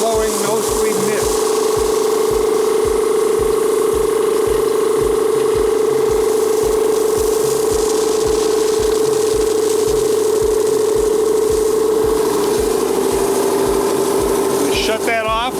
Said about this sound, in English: Turn it on, the pressure valve pops up, and now we're blowing mostly mist